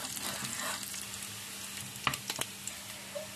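Garlic and shallot fry in hot oil with a steady close crackling sizzle, broken by a few sharp clicks and scrapes toward the end.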